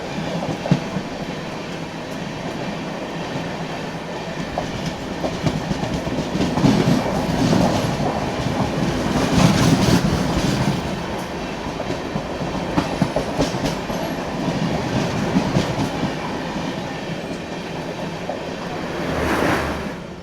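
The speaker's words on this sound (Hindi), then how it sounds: "राजगीर जनता एक्सप्रेस रैप 7 के साथ। ओवरटेक के बाद एक्सेलरेट करते हुए" The Rajgir Janta Express accelerates after overtaking, its wagons giving a loud, sustained rumble with rhythmic clickety-clack of wheels over rail joints. The noise swells and eases in waves throughout, heard close from inside or beside the moving train.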